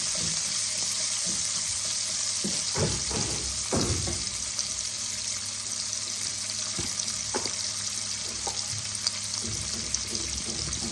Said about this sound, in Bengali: পেঁয়াজটাকে আমি ব্রাউন করে ভেজে নেব।